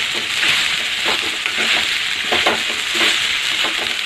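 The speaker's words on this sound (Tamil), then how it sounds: "ஒரு 2 நிமிஷம் இந்த இதில் வந்து கிண்டி விட்டால் போதும்" Poha stirred in a pan for a Mumbai-style breakfast, giving a steady close scraping and soft sizzle with repeated spatula strokes, no talking.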